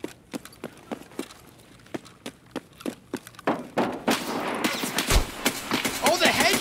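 In Escape from Tarkov, regular light footsteps give way to a cluster of loud, sharp gunshots and thuds at close range. A player talks over the action.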